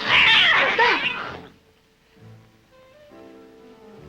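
Several cats yowl and caterwaul loudly together in a harsh burst that ends abruptly, followed by quieter tonal background sound.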